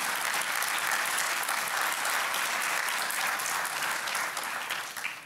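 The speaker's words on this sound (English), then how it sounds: "And big applause for the couple" An audience at the Wroclaw Global Forum gives sustained, even applause that stays loud for several seconds and then begins to fade.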